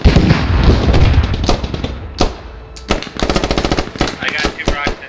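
Rapid automatic gunfire and scattered single shots in a military video game, loud and close, with dense bursts at the start and more cracking volleys near the end, plus faint voice chatter underneath.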